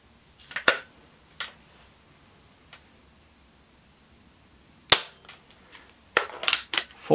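Diana Mod 6 air pistol fired through a chronograph: sharp, close snapping shots spread irregularly, with a pair early, a lone crack near the middle and a cluster near the end, and no talking.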